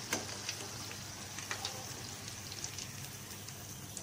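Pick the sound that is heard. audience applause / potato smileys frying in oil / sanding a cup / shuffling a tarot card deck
potato smileys frying in oil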